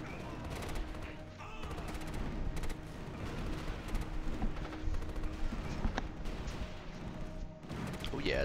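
Tanks fire in a desert battle at El Alamein in the 2004 strategy game Axis & Allies, with dense, continuous gunfire, booms and crashes rolling under a busy battle din, with someone talking over it.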